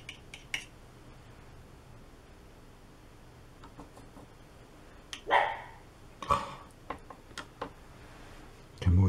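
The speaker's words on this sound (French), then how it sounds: "Caractère ce chien." A dog barks a couple of short times in a quiet room during a watercolour painting session, the barks moderately distant, with faint background noise and no talk.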